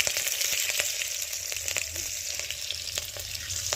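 Cumin, bay leaf and chilli fry in hot oil for kadhi, producing a steady close crackling sizzle with sharp spitting pops throughout, no voices.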